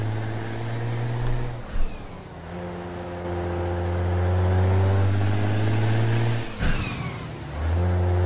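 An International 9800 truck in American Truck Simulator drives along with a steady engine drone that rises and falls, with two sharp air-brake hisses, loud and close, no talk.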